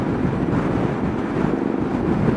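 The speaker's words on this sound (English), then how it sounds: "We're just saying how windy it is," Gusting wind buffets the microphone outdoors on a roadside in Belgium, a steady, loud, broadband roar that swells slightly throughout with no speech.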